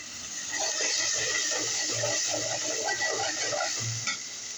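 Ginger garlic paste, turmeric powder and chilies go into a frying pan for a chickpea lentil and egg curry, giving a steady close sizzle with soft scraping and stirring thumps throughout.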